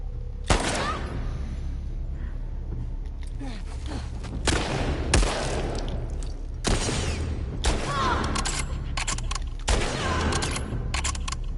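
Gunfire rings out in the video game The Last of Us Part II Remastered: several sharp, loud shots at irregular intervals over a steady rumbling background.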